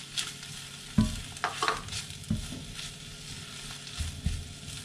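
Spring onion stir-fries with mie goreng noodles and Christmas leftovers in a pan, giving a quiet sizzle with scraping stirs and a few clanks of the utensil, all fairly soft and close.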